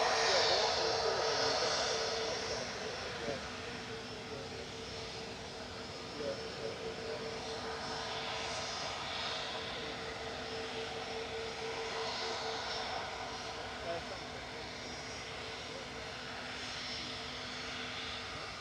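An easyJet Airbus A321neo jet roars steadily at Manchester Airport, a loud, sustained engine rumble and whine that swells and slowly fades, with faint voices talking over it.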